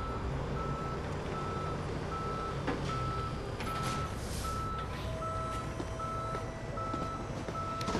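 A tow truck reversing in Police Simulator: Patrol Officers gives off evenly spaced high beeps, steady and moderately distant, over a constant low engine and traffic hum throughout.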